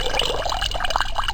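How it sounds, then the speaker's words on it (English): A create water spell cast by a cleric in a game gives a brief, steady trickling tinkle, like a small vial of water poured into a toilet, close and unbroken for just over a second. "It sounds like if you poured a small vial of water into the toilet."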